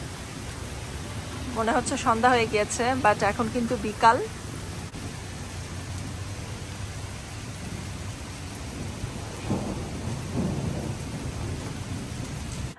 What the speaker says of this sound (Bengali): একদম ঝুম বৃষ্টি হচ্ছে